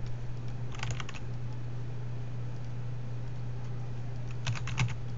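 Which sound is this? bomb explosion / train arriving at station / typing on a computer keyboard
typing on a computer keyboard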